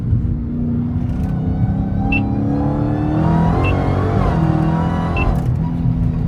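Dodge Hellcat Redeye fitted with catless mid pipes driving, a loud, close, continuous deep engine rumble with rising revs and gear changes under steady load.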